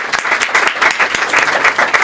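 Audience applause at a book presentation on didactics and technology, loud close clapping with quick sharp claps blending into a continuous patter.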